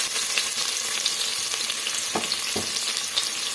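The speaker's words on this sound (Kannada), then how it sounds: "ಈರುಳ್ಳಿ ಸೇರಿಸ್ಕೊಂಡು ಈ ಥರ ಫ್ರೈ ಮಾಡ್ಕೊಳ್ಳೋಣ" Onions fry in hot oil in a cooker for a goat mutton sambar, a steady close broadband sizzle with a few soft stirring knocks, no voices.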